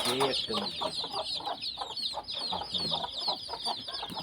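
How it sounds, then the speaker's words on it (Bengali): Hens and chicks on a poultry farm fenced with plastic netting cluck and peep close by, a busy run of soft repeated clucks with faint chirping throughout. "এই দেখেন মুরগি এই একটা মুরগি বাচ্চা উঠেছে"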